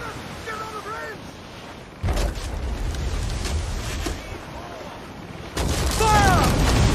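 Ship cannons firing in Assassin's Creed IV Black Flag, video game: heavy booming blasts at about two and five and a half seconds over steady ocean surf and wind, with shouted voices in the background.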